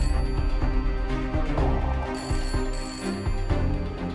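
Telephone bell ringing in repeated bursts, a bright metallic trill with steady tonal overtones, loud and close, continuing throughout with brief gaps between rings.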